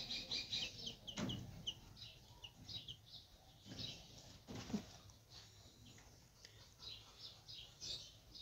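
A chicken-like bird in a zoo enclosure clucks in short, irregular bursts, fairly faint against a quiet background with scattered rustling.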